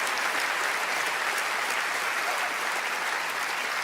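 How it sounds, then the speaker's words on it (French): Thunderous audience applause at a comedy festival in Liège, a loud, dense, unbroken roar of clapping from a large crowd, sustained evenly for several seconds. "Un tonnerre d'applaudissements pour Vincent, s'il vous plaît."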